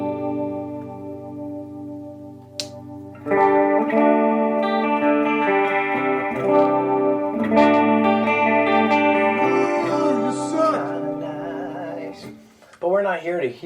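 An electric guitar played through the Mooer Prime M2 multi-effects pedal on its Dumble Clean preset rings out in sustained clean chords and a few picked notes, full and shimmering, alone without talk.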